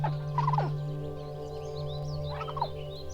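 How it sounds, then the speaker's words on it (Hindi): Two birds call back and forth in short, warbling bursts, one near the start and another a couple of seconds later, over a steady humming tonal background. "वो दोनों चिड़िया एक दूसरे से क्या बात कर रही हैं वो देख रहा हूँ"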